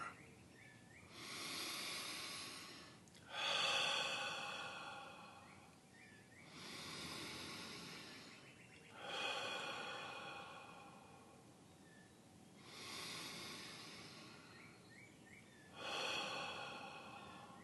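Slow, deep breathing during a guided meditation, with long nasal inhales and exhales in a steady rhythm of about six breaths, close and fairly faint, with no talking.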